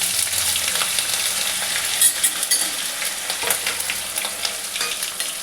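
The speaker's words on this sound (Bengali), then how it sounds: "আমার কড়াইয়ে তেল গরম হয়ে গেছে, আমি এতে জিরে ফোড়নটা দিয়ে দিলাম" Cumin seeds and spices sizzle in hot oil in a wok, a steady bright crackling hiss close up, with occasional sharper pops and a spatula scraping now and then.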